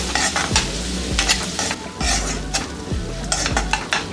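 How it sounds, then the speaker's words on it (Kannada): Onions and curry leaves frying over a low flame for a radish stir fry, a constant close sizzle with regular scraping stirs of a spatula against the pan. "ಲೋ ಫ್ಲೇಮಲ್ಲೇ ಇಟ್ಕೊಂಡು ಈಗ ಇದನ್ನ ಫ್ರೈ ಮಾಡ್ಕೊಳ್ಳೋಣ ಕ್ಲೀನಾಗಿ"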